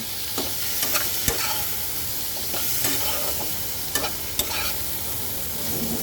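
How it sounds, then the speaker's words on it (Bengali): Spices frying with turmeric and coriander powder for a tengra fish curry, a loud hissing sizzle with sharp spatula scrapes and clacks against the pan at irregular intervals, close and unaccompanied by speech. "এবার এটাকে সুন্দর সুন্দর করে ভাজা ভাজা করতে হবে"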